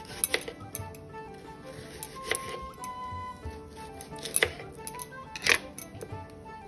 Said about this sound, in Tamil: இந்த மாதிரி 2 வாழைக்காவையும் இந்த மாதிரி ஸ்லைஸ் பண்ணி வச்சுக்குவோம்.